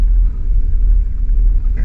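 Busy Lusaka street traffic heard from inside a moving car, a loud steady low rumble of many engines with no voices.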